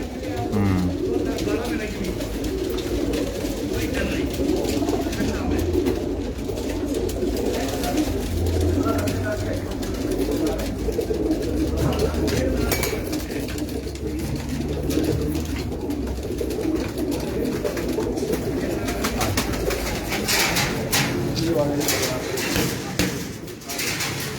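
Paired pigeons on a rooftop coo in low, soft, continuous murmurs, with people talking over them throughout.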